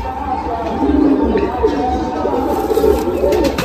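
A Madrasi pigeon coos with repeated low throaty rolls, close and steady, under a busy background where voices murmur.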